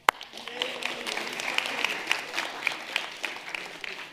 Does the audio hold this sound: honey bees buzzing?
no